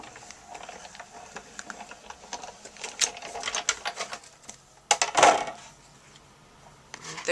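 Stampin' Up Big Shot die-cutting machine cranks cutting plates and an embossing folder through its rollers with a run of close clicks and ratcheting ticks, then a louder grinding crunch, in a quiet room.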